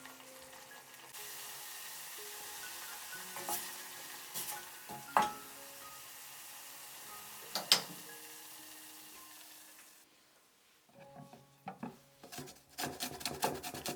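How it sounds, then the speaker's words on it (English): Tonkatsu sauce simmering in a pot gives a soft continuous sizzle while a utensil stirs and scrapes with occasional knocks; later the simmer fades and a cluster of quicker scraping taps follows, close and without voices. "Stir from time to time."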